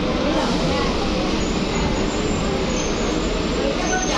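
Interior of a moving train near Balurghat, a continuous loud rumble and rattle of wheels and carriage that holds steady throughout.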